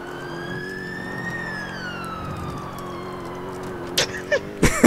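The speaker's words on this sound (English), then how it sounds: "Lights and sirens blaring, you know what I'm saying?" Police siren from GTA IV blares continuously, its wailing tone rising then falling over a steady vehicle engine hum, with a few sharp thumps and bangs near the end.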